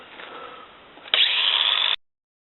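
A Ryobi One+ 18 volt 4 1/2 inch angle grinder, model P420, on battery power grinds 1/4 inch steel: a softer whine, then a sharp jump to a loud, harsh grinding screech before it cuts off abruptly.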